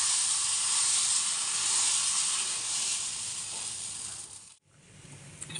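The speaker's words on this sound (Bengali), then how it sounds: "তাওয়াতে তেল ব্রাশ করে নেব, তারপরে এই ব্যাটারটা দিয়ে দিলাম।" Moong dal batter poured onto an oiled griddle gives a loud, steady sizzling hiss up close that fades a little, then breaks off briefly before resuming.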